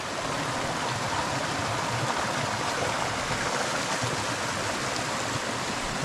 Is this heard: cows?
no